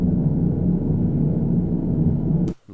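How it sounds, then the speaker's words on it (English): Steady low-frequency spaceship-interior hum ambience, a dense droning rumble that holds at an even loud level before cutting off abruptly near the end. "There's the interior hum sound."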